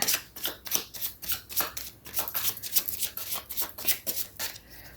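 A new deck of tarot cards being handled and shuffled up close, a steady run of crisp papery riffles and slaps with no talking.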